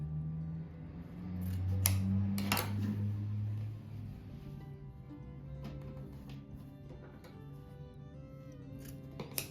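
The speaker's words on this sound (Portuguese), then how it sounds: "agora eu vou dobrar ele no meio, assim, bem certinho, e vou cortar aqui o meio dele." Scissors cut through folded fabric for a floor rug, giving a few close crisp snips and rustles over a quiet room with a low hum.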